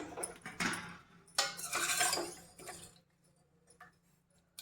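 A pressure cooker lid of cooked mutton is opened with a few close metallic clanks and scrapes, brief bursts of clatter followed by a faint tapping tail.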